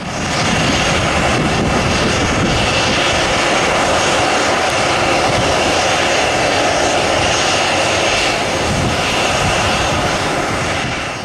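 Airbus A320 jet taking off from Salvador Airport and suffering a bird strike, a loud continuous broadband engine roar held at full power for the whole stretch, close and steady with no voices.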